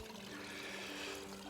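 Distant waterfall in a forest canyon on an Indiana spring hike, a steady broadband rush of falling water with no talking.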